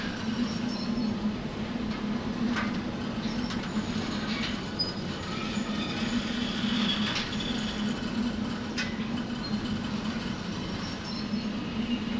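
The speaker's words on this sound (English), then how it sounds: "The clacking of the wheels and the squealing of the metal." Steady rumble of train wheels rolling over track in the Derail Valley game, with intermittent rhythmic clacks and faint high metallic squeals, continuous and fairly loud with no talk.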